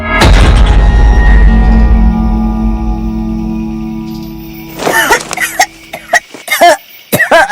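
A heavy impact booms and rings out, followed by a burst of an elderly grandmother's harsh, repeated coughs close by.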